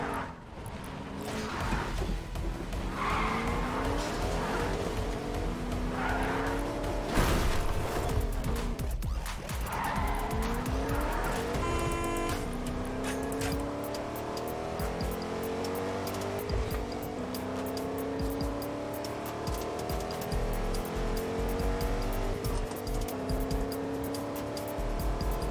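Engine drone of a car being driven in the video game Fortnite Battle Royale, with rising and falling engine pitch as it accelerates and shifts, plus occasional tire noise. The sound is continuous and fairly loud, with other game sounds mixed in.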